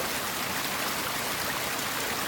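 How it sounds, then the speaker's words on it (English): A naturalistic spillway on a pondless waterfall, fed by two pumps moving 7,500 gallons per hour, makes a constant broadband rush of falling and splashing water, close and steady throughout. "a waterfall."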